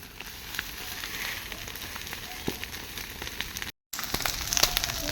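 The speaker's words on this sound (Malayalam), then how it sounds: "നല്ല കത്തലാണ്" A large fire burns with a steady, dense crackle and hiss, scattered sharper pops rising above it, heard from nearby with a brief cut near the end.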